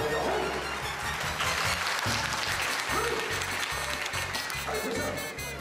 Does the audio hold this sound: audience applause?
yes